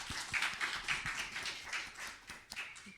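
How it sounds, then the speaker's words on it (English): A small audience at a spring biology career panel claps steadily in dense, overlapping hand claps that continue for several seconds at moderate volume, with no voices over them. "let's give them a round of applause."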